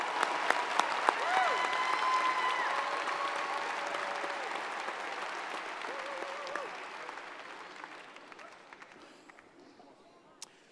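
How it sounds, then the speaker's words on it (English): At a spring university commencement ceremony, the audience applauds doctoral degree recipients with a broad, roomy wash of clapping and a few whistles and cheers, slowly fading toward the end. "let's have another round of applause for all of our doctoral degree recipients."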